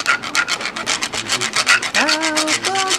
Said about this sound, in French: Scientifiquement, c'est l'idiophone à raclement.